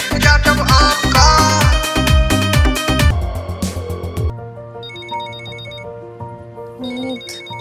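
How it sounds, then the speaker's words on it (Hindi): A mobile phone rings with a loud repeating melodic ringtone, the tones continuing and then trailing into quieter musical tones with a background hum. "तुम्हारा फोन बज रहा है"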